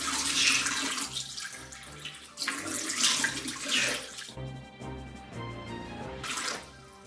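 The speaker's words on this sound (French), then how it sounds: "on commence par rincer un peu le visage avec de l'eau très fraîche" Cold tap water running and splashing into a sink while the face is rinsed, a continuous close wash of flowing water with brief changes in the stream as hands move, and no voices.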